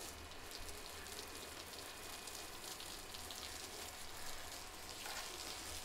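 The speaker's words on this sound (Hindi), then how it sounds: "और हम ज़्यादा छिड़काव मारेंगे पानी का" Water is sprinkled over soil in a traditional village setting as part of cooking tandoori saag, a soft steady patter of drops spreading across the ground, quiet and unbroken, with no talking.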